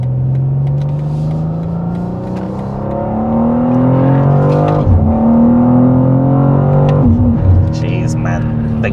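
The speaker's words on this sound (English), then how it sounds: "The gear changes are literally so aggressive." A BMW M2 accelerating hard, its engine note climbing in rising sweeps broken by abrupt, aggressive gear changes at about five and seven seconds, loud and sustained from inside the car with a voice speaking over it.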